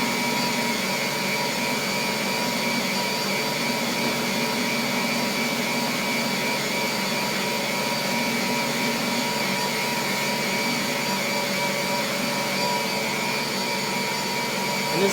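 An electric stand mixer runs continuously, kneading homemade pizza dough with a loud, even motor whir and churn that holds steady throughout, with no talking over it.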